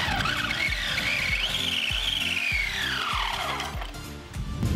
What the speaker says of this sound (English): Let's rev it up and see how well it works.